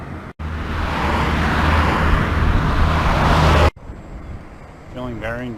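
Steady roar of cars on a heavily traveled roadway, heard near and loud from an electric unicycle riding alongside it, cutting off abruptly before a voice starts speaking.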